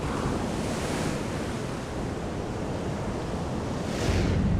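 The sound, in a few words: ocean waves breaking on the Peruvian coast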